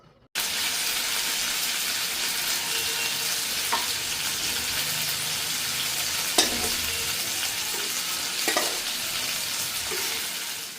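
Small pieces of salmon frying in a pan, a loud, even sizzle running throughout, with a few sharp spatula or utensil knocks along the way, close by and without speech.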